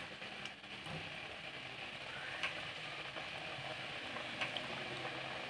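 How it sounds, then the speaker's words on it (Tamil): Rolls of cracker dough frying in hot bubbling oil, a steady close sizzle with soft popping throughout. "ஆயில் ஹீட் ஆனோடனே பபுள்ஸ் வரும்போது நம்ம இதை ஒவ்வொன்றா எடுத்து ஆயிலில் நம்ம இப்படி போடுறோம்"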